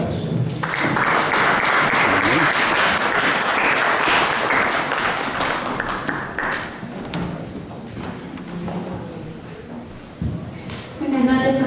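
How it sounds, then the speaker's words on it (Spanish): Warm applause from a church congregation during a Christmas service, a dense, sustained clatter of hands that gradually thins toward the end, with a voice briefly heard as it tails off. "Recibamos, por favor, con un caluroso aplauso."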